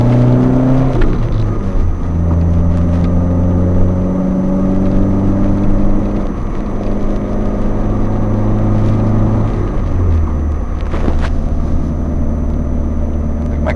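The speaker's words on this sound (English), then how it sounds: "Car is getting louder." A Nissan 240SX engine drones steadily at close range on a back road, its pitch rising and falling as it revs up and eases off, with a low rumble throughout.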